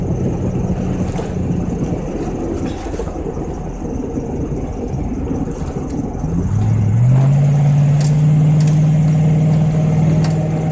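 A Chevrolet Tahoe with an aftermarket exhaust drones loudly in the cabin, a rumbling engine note that climbs as the revs rise partway through and then holds a steady, booming tone near 2,000 RPM.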